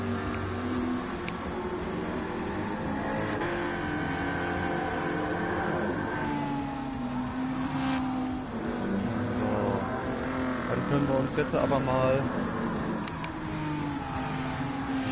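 Race car engines drone and rev continuously in Gran Turismo 7 during a race at Lago Maggiore, a steady mechanical roar with shifting pitch under someone talking.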